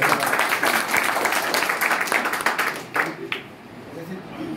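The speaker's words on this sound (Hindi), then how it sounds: "एक बार जोड़ा तालियां" Applause at a BJP Samarpan Nidhi campaign review meeting in Vidisha district, a loud burst of crowd clapping that holds steady for about three seconds and then fades out quickly.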